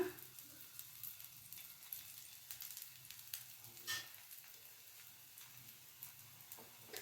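Akki rotti fries in oil on a tava, giving a quiet, steady sizzle with faint crackles and pops scattered over several seconds, soft and close with no talking.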